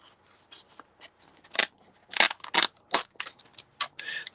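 Scissors snipping through paper at the top of a purple sky piece for card making, a quick run of crisp, close cuts with short pauses between snips and no talking.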